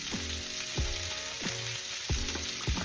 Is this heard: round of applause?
no